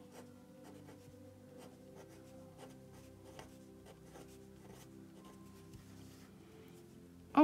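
A pen scratches steadily across paper while drawing ink tangle patterns, with soft rhythmic strokes under a low background hum and a louder bump at the very end.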